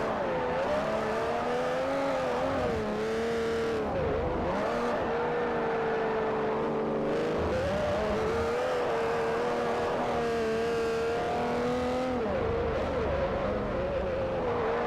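Mercedes-Benz coupe engine in the Forza Motorsport 4 video game revs loudly and continuously, its pitch rising and dipping as it shifts through gears, close and steady throughout with no talking.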